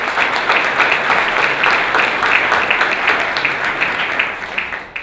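Sustained audience applause welcoming a speaker, Jim O'Neill, at a Chicago Council event, steady dense clapping from a large crowd for about five seconds before tapering off at the end.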